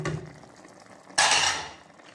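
A paste of ground almonds, coconut and poppy seeds is stirred into beef in a cooking pot for beef pasanda; soft scraping, then a sudden loud clattering scrape of the utensil against the pot that fades away.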